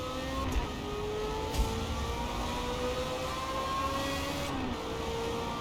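A car engine in Forza Motorsport career-mode racing, a steady mid-level engine drone with slowly rising and falling tones as it revs through gears, heard continuously with a couple of brief thumps.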